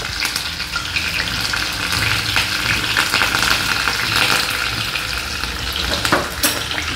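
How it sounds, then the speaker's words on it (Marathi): Green chillies crackle and sizzle loudly in hot ghee with spluttering cumin seeds, a dense continuous frying hiss with sharp pops and stirring scrapes, no voices. "और ये रहा चटकेदार फोडणी."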